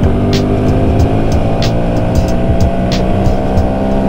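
A Honda motorcycle pulls away hard from a standstill in first gear in an informal drag race on the road, its loud close engine drone rising steadily under rushing wind noise.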